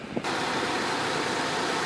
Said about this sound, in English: Engine looks and sounds very healthy.